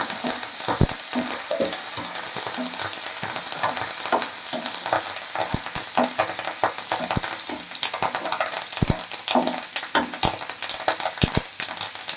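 Onion, dried red chilies and curry leaves fry in hot oil as the tempering for a sardine fish curry, giving a steady close sizzle with frequent sharp crackles and pops and no talking.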